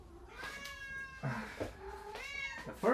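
A domestic cat meows repeatedly at close range while waiting to be fed: a string of several clear, rising and falling meows with no talking.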